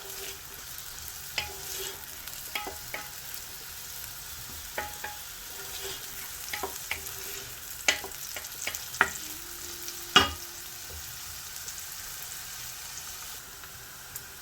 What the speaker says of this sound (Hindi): तो इसको फ्राई कर लेंगे, लाइट ब्राउन ही करेंगे, ज़्यादा ब्राउन नहीं करेंगे।